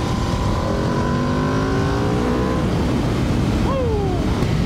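An Aprilia RSV4 sport motorcycle engine drones and its pitch slides downward under loud wind rush, then it gives a sharp rev near the end.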